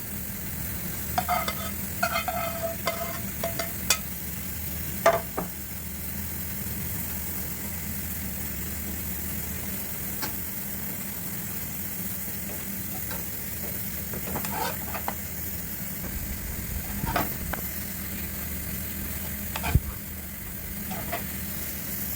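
Pancit canton noodles with vegetables stir-fry in a pan, a steady sizzle and hiss with intermittent scraping stirs and clinks of the utensil, close and moderately quiet.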